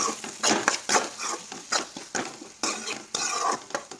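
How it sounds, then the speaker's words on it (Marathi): Pav bhaji vegetables stirred and tossed in a pan on the stove, with steady sizzling frying and repeated scraping strokes of a spoon against the metal, close and fairly loud with no voices. "आता परत एकदा आपण याला परतून घेऊया."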